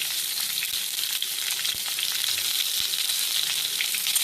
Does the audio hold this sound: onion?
yes